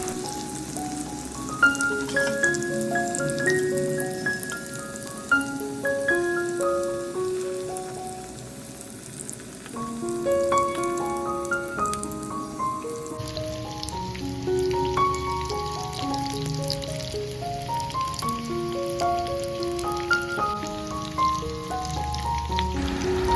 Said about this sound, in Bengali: একটা একটা করে রোলিংসগুলো ছেড়ে দেব, আর রোলিংসগুলো মিডিয়াম হিটেই ফ্রাই করতে হবে।